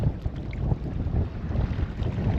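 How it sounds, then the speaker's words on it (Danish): Cold coastal wind at Sønderby Klint during sea trout fishing, a steady, blustery rush buffeting the microphone with no other sounds over it. "Og den vind, den er, som den er her også."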